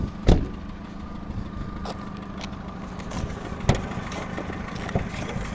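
The 1.4-litre petrol engine of a 2009 Skoda Roomster Scout with LPG conversion idles steadily at low volume, a smooth continuous hum with a couple of faint clicks and knocks.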